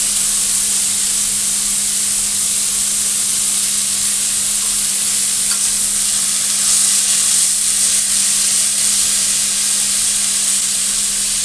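Bitter gourd (karela) with potatoes frying in a pan, a loud steady sizzle and hiss running unbroken at close range, with a faint background hum and no voices.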